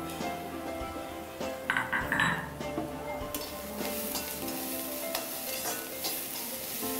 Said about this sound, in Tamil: இதுலேயே கொஞ்சம் நல்லா வதக்கணும்